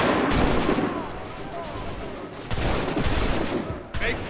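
A ragged musket volley crackles in an Assassin's Creed 3 battle, several shots bunching into a loud burst, fading, then a second heavy rattle of gunfire, with shouted voices over the din.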